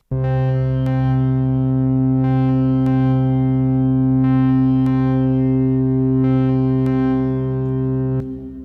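Ten layered synthesizer tracks in Ableton drone together in a sustained chord, with soft filtered swells and faint plucked accents recurring every couple of seconds.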